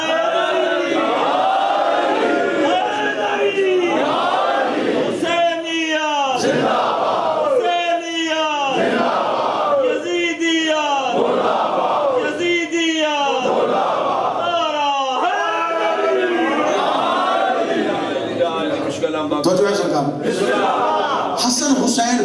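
A large crowd at a religious gathering celebrating the birth of Imam Hussain answers a leader with rhythmic, loud chanted slogans, the call and the mass response alternating in repeated waves throughout.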